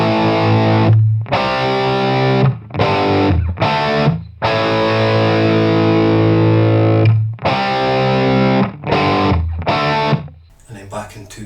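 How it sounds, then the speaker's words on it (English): Distorted electric guitar from a 1981 Ibanez Destroyer, playing a run of loud sustained power chords in rhythmic bursts, with short gaps between chord blocks and a long held chord in the middle. "Now it sounds like he's just playing power chords there again."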